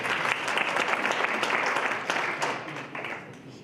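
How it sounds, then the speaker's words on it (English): An audience at a business panel discussion applauds a panelist, with dense, steady clapping from many hands that tapers off toward the end. "Can we give him a round of applause?"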